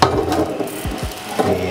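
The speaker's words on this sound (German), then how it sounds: "Jetzt machen wir Deckel zu." The lid of a gas grill swings shut outdoors, with a short series of creaking metal scrapes and dull clunks, close and fairly loud, and no voices.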